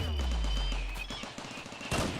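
Bullet Storm turret machine gun in Rimworld Odyssey firing a rapid, steady stream of shots, fairly faint, ending in a louder burst.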